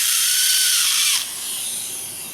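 A dental bur grinds a frenulum notch into an acrylic denture with a loud, high-pitched whir. The pitch drops partway through as the bur bites into the acrylic, and no one speaks.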